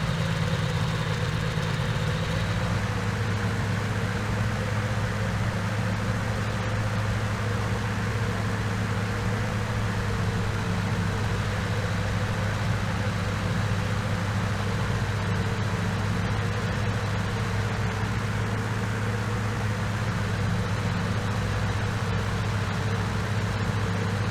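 Steady drone of an aircraft engine at reduced throttle in Flight Simulator X, a continuous low hum with a faint tonal whine, unbroken and even throughout.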